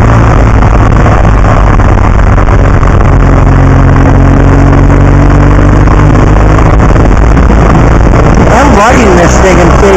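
A 2015 BMW R1200 GS Adventure motorcycle engine runs steadily in third gear, a continuous loud drone with heavy wind rush throughout, and a brief rise near the end.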